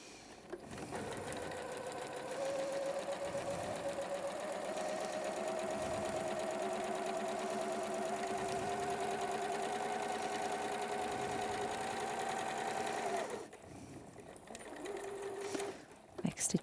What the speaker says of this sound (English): I backstitch again at the beginning and end to secure the seam.